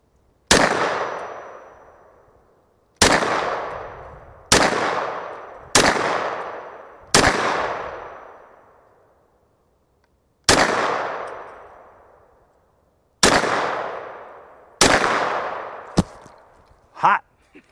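A Hi-Point 10mm 1095TS carbine fires nine sharp, loud single gunshots at an outdoor range, spaced irregularly, each followed by a long ringing echo, with a faint clink near the end.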